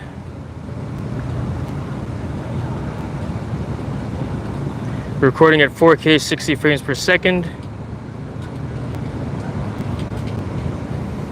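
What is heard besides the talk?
wind blowing outdoors at waterside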